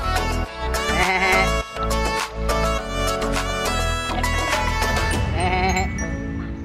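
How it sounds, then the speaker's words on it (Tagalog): A small goat bleating loudly and repeatedly near a river, a run of wavering, harmonic-rich cries close by with short pauses between calls. "Ayan o, may kambing o, maliit o."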